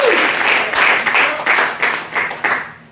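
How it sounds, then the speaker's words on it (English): An audience at a jazz quartet concert breaks into loud, close applause, dense clapping that swells in waves and keeps going throughout. "Give her a round of applause."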